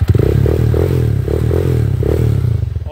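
A TMX125 Alpha motorcycle converted to 200cc, fitted with an aluminum four-stroke racing pipe, runs close by with a smooth, steady, throbbing idle and evenly pulsing exhaust beats.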